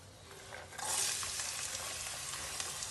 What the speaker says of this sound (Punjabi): ਘਿਓ ਆਪਣਾ ਗਰਮ ਹੋ ਗਿਆ ਹੁਣ ਆਪਾਂ ਸਭ ਤੋਂ ਪਹਿਲਾਂ ਨਾ ਇਹਦੇ ਵਿੱਚ ਪਿਆਜ਼ ਪਾਵਾਂਗੇ